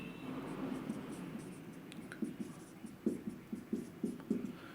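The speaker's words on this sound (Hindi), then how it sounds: "अब हम लिखते हैं मिनिमाइज एक्सप्रेशन।" Pen strokes scratch across paper as a minimized K-map expression for a digital electronics lecture is written out, soft and close with short rhythmic bursts that grow clearer toward the end, with faint room noise and no speech.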